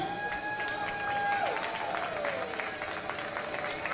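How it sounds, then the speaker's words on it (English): An audience at a conference event breaks into sustained applause with scattered cheers, while a faint whistling tone drifts through the clapping. "can we give everyone a round of applause, please?"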